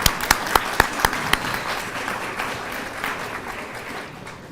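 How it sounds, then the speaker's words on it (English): At a police awards ceremony, a few sharp nearby claps lead into broader room applause that gradually fades out. "a round of applause for everybody,"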